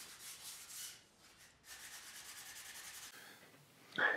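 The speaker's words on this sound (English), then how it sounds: "grab some 220 grit sandpaper wrapped around a block of wood and sand away some of those remaining tab nubs" Sandpaper of 220 grit on a wooden block rubbing the sides of a bass guitar fretboard to remove leftover tab nubs, a soft hissing scrape in a few uneven strokes with a short gap partway through, quiet and close.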